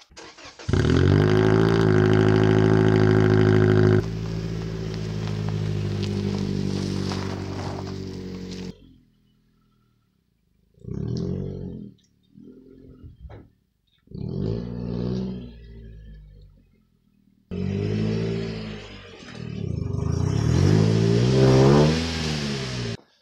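A 2007 car engine starts and revs loudly nearby, settles into a rumbling idle, then cuts off; after short pauses it restarts and revs as it pulls away.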